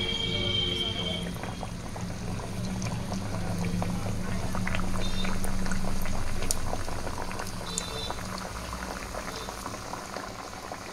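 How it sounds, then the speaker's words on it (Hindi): Sweet tikiyan (koonde ki tikki) fry in hot refined oil over a low flame, a dense continuous bubbling and crackle that swells and fades slightly, with a faint voice in the background. "रिफाइंड से ही इसको हमें तल लें, घी से हम नहीं तल रहे हैं"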